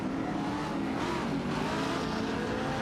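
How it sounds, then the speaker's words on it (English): A Koenigsegg car engine in an AI racing video game makes a steady, dense drone that holds at an even level with no pauses. "it does sound like a Koenigsegg"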